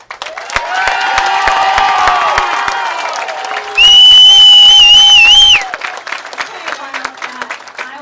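A crowd at a girls' high school state bowling tournament claps and cheers in a sustained roar, with shouts and a loud whistle-like tone standing out for a couple of seconds before the noise fades into scattered clapping.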